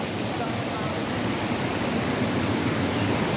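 Hasaan Falls in Bulacan sends up a steady, dense roar of falling water, broadband and unbroken throughout, loud and close with no pauses or shifts.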